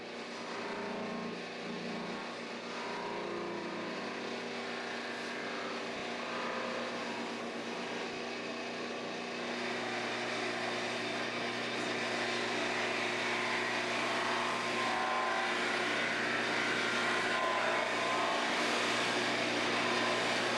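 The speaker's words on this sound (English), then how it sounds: "let me show you how to do it on the buffing wheel" A buffing wheel polishes the finish on a guitar, giving a steady motor whine with a broad rushing hiss that holds evenly and grows slightly louder partway through, with no speech.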